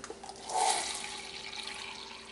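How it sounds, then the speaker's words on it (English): Water is poured from a tap into a cup for thinning acrylic paint with Floetrol, giving a brief close splashing rush that swells and then settles into a softer trickle, with no talking. "I'm going to put water in a cup here"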